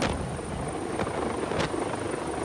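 Rescue helicopter rotor downwash roars as a loud, dense, continuous wash of air and rotor noise, with faint rhythmic blade thumps and no voices.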